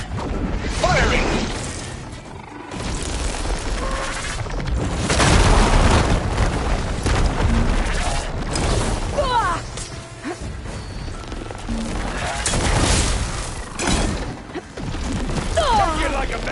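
Booming explosions and crashing impacts from a Horizon video game battle, with supporting gunfire, roll loudly and continuously, layered with mechanical clanks and bursts of talk.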